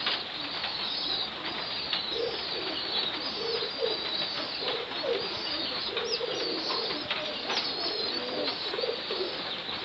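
Pet pigeons cooing in a backyard coop, a continuous layered murmur of soft coos with occasional wing flaps and chirps, close by and steady, with no talk.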